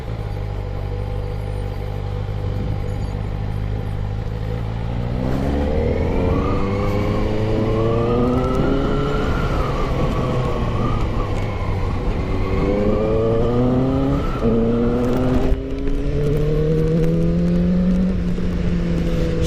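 A QJmotor Race 600RR, a 600cc four-cylinder motorcycle, pulls away and accelerates hard through several gears, its engine note climbing in repeated rising sweeps, loud and close, with no talking.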